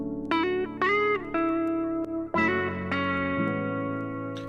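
Sustained electric guitar chords and notes with gritty distortion, shimmering chorus, echoing delay and a spacious reverb tail, played alone.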